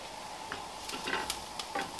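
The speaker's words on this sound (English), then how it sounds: "There's that sizzle." Food sizzles steadily in a pan with beef stock, with scattered crackles and light scraping taps against the cookware, close by.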